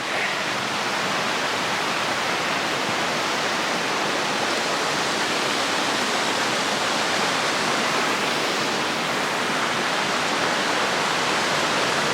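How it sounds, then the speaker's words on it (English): Constant rushing water of Spade Creek on the Pacific Crest Trail fills the whole stretch, a loud, steady broadband hiss of flowing water nearby with no voices. "Here's Spade Creek."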